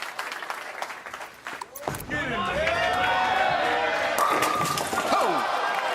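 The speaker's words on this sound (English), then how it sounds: "Standing ovation for the 18-year-old." Arena crowd at a professional bowling stepladder final in Indianapolis bursts into sustained applause and cheering for an 18-year-old bowler, swelling loudly after a brief lull and holding steady, with a commentator talking over it.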